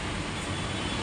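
A Mumbai local train near Dadar station runs in a steady, loud, continuous broadband roar of wheels and carriage rumble, with no distinct breaks or voices.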